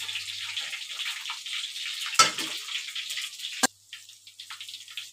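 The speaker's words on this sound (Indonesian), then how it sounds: "Nah, saya goreng tahunya ini nggak terlalu lama-lama ya teman-teman, cuma setengah matang saja." Tofu frying in hot oil, a steady soft sizzle with a couple of sharp louder pops and splashes near the middle, close and fairly quiet throughout.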